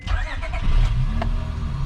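A turbocharged all-wheel-drive Honda Accord with a J32 engine cranks briefly and fires up close by, settling straight into a steady, fairly quiet idle.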